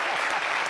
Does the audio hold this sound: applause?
yes